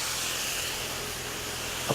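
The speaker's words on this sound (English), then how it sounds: "a peek at our water here, which is, voila, boiling rapidly." A pot of water on the stove at a rapid boil gives a steady, close hiss and rush of bubbling for a green bean casserole, with a brief clink near the end.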